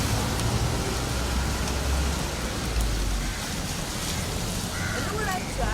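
Steady monsoon rain falls in Mumbai as a continuous broadband hiss with low rumble, loud and close throughout, with no speech over it.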